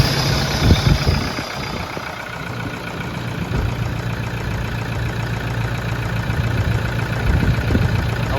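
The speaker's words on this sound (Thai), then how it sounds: "สตารฟังเสียงเครื่องยนต์นะผมนะ" A used car's engine running at a steady idle after starting, a continuous low mechanical hum with a dealer-lot setting, heard alone at moderate loudness throughout.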